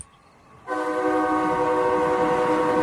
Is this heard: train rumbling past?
yes